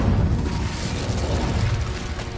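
A roaring burst of the Incendio fire spell in Hogwarts Legacy, a dense rumbling whoosh that stays loud and steady for a couple of seconds with no voices over it.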